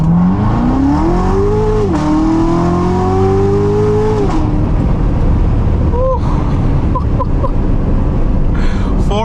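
A Corvette launches and accelerates hard with throttle control, its loud engine revving up through gears in rising sweeps, then a brief shift before settling into a steady roar; no speech over it.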